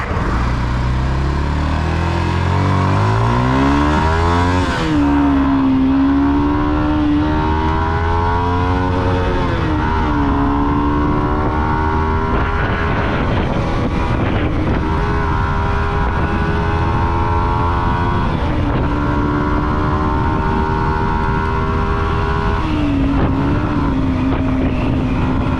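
A Yamaha XSR155 motorcycle engine starts and revs repeatedly, loud and close, with rising and falling pitch across several throttle blips and steady idle between them.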